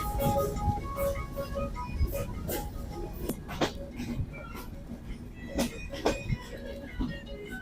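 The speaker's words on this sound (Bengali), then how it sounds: "এখন আমরা প্রবেশ করছি কোর্ট চাঁদপুর রেলওয়ে স্টেশনে" Chitra Express train pulling into Kotchandpur railway station, heard from on board: a steady low rumble with scattered metallic clanks and knocks, with faint background voices.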